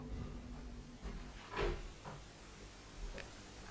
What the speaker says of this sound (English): Like a door opening.